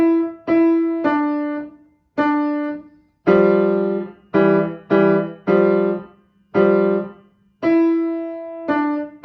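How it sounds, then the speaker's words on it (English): Solo piano right hand plays the whole of a piece, a steady run of about a dozen clear struck notes and intervals with ringing decays, close and unaccompanied. "So the entire piece played just with the right hand sounds like this."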